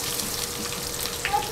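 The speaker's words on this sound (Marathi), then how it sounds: "हे कांदा भाजस्तपर्यंत" Onion fries in a pan for pulao with a brief, steady soft sizzle heard up close, with a small clink near the end.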